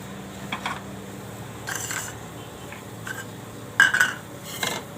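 Cooked coconut ladoo mixture being scraped and transferred from a pan into a dish, with a few sharp metallic clinks and scrapes of utensil against cookware, spaced irregularly and moderately close.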